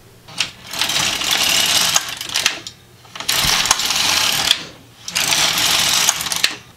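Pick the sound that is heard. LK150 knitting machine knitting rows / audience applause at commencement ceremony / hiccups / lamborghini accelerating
LK150 knitting machine knitting rows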